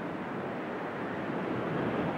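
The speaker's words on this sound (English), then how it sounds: "Right back this way, quite windy on the corner." Wind sweeps around the corner of a lighthouse on the south coast of England by the sea, a steady, fairly faint broadband rush blending with distant surf and no talking.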